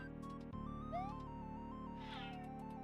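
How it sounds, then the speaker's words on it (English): A pet cat meows a few times in the background of a gaming livestream room, short tonal cries rising and falling over a steady music bed, with no talking. "I heard my cat in the background."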